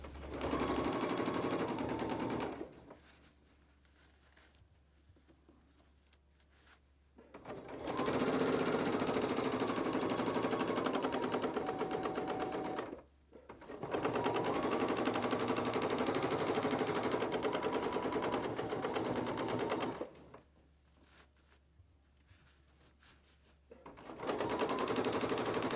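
A sewing machine quilts petals along a ruler in long bursts of fast, loud mechanical stitching, close up, broken by quiet pauses where the fabric is repositioned before stitching resumes.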